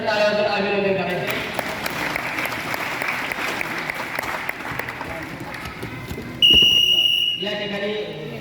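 A crowd at a wrestling tournament final claps loudly and steadily for several seconds, mixed with a commentator's voice, before a sharp whistle-like tone cuts in near the end.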